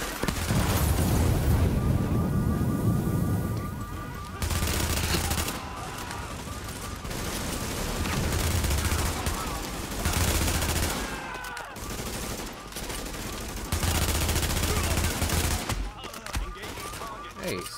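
Sustained gunfire in The Division shooter game: dense bursts of automatic fire and crackling shots with occasional heavy booms, loud and continuous with brief lulls, and a voice speaking over parts of it.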